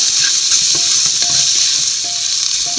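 Fennel powder and garam masala being stirred into a sizzling frying mix for a Kerala beef bone curry, with a steady loud hiss of hot oil and scattered scraping and clinking of a spoon against the pan.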